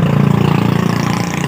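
A 2021 Fiat 640 tractor engine idles with a steady, rapid low chugging pulse, loud and close, with no speech over it.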